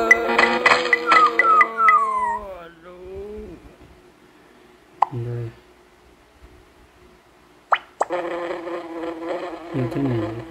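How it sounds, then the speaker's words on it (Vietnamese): Buzzing insect sounds from a bee in a mobile video game, heard in bursts with game effects and a voice talking over parts of it. "Như thế này con ong sẽ không ra ngoài."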